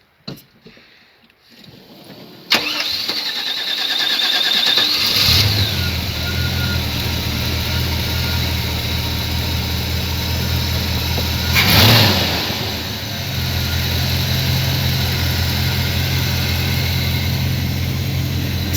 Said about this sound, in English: here, I'll start it up. See, it sounds like a truck.